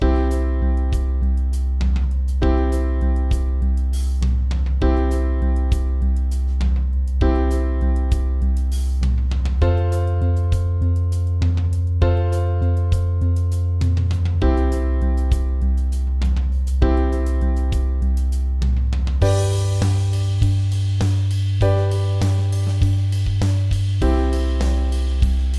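A basic 12-bar blues chord progression in a major key, moving through I, IV and V chords, played as loud, steady rhythmic strums over a deep sustained bass, with no talking.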